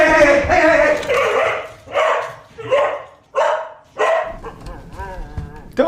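Loud, close barking from a dog: a run of six or seven sharp barks at a steady pace, each with a harsh, rough edge, then softer whines and yelps as it trails off.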